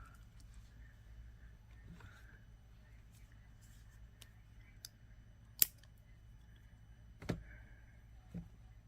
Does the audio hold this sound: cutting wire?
yes